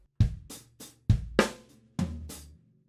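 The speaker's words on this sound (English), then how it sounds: "right hand on the floor tom, left hand on the hi-hat." A brief open-handed drum groove of deep floor tom hits, sharp snare cracks and bright hi-hat ticks in a quick, syncopated rhythm, close up.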